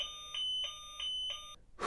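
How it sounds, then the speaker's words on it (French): Anti-theft alarm on a Kingsong KS N12 Pro electric scooter, loud repeating electronic beeps in a steady pulsing pattern, close by, followed by a brief burst of noise at the end. "C'est pas mal du tout ce genre de petite alarme là"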